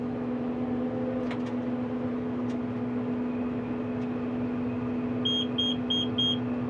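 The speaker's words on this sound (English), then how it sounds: "that was from the knife of the net wrap system cutting the net wrap. You can hear it go click" A Krone round baler's net wrap knife gives a few sharp clicks early on, heard over the steady drone of the running tractor and baler, followed near the end by a quick run of four electronic beeps.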